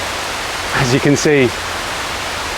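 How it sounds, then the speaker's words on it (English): Steady rain falls in a park, a broad hiss heard from under shelter that runs throughout, with someone talking briefly over it. "it's raining again"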